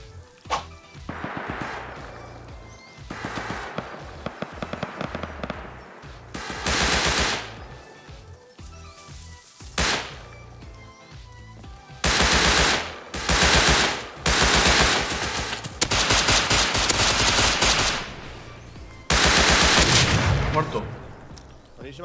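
Rust video game gunfire, including SMG bursts, with repeated loud rapid volleys and single shots spread across the clip, interspersed with quieter gaps and occasional talk between players.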